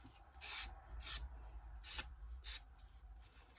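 A hand file rasps along the edge of a scrapbooking card in a series of short, faint strokes at a steady rhythm, heard close up with nobody talking.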